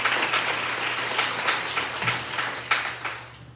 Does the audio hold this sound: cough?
no